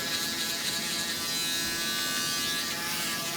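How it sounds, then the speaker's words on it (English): An Andis electric shaver runs during a fade haircut, giving a steady, close buzz that holds unbroken for the whole few seconds, with no talking. "What kind of shaver you use? Andis. The Andis shaver."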